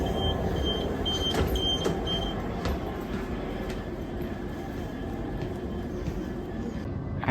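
London Overground train departing Battersea Park, heard from on board as a steady low rumble with a few high squeals and clicks of wheels on track, continuous and without talking.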